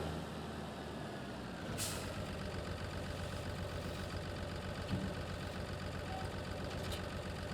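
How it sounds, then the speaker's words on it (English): A JCB front loader's diesel engine runs steadily on a farm, a low continuous rumble at close range with a brief hiss of air release near the start; no one talks. "I will use the JCB itself for the carting work now, because don't think we will be needing the front loader anymore."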